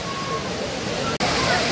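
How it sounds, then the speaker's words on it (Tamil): Water crashes down at Courtallam waterfall while people bathe in it, a loud continuous roar with a brief dropout near the end and voices mixed into the rush. "குற்றால அருவியிலே குளித்துக் கொண்டிருக்கின்றோம்."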